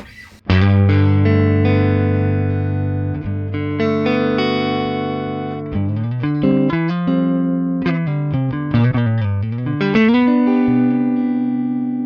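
Electric guitar chords and single notes ring out through a Fender tube amp with a 1x12 speaker, volume maxed at 10 and just breaking up, with a slight gritty edge, sustained and played alone with some reverb.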